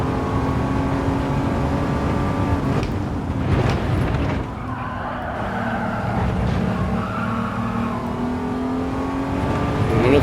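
A race car in Gran Turismo 7 revs steadily on the throttle while climbing a hill, its engine note holding loud and continuous with shifting pitch, a brief dip as it changes gear and tyres squealing in the mix.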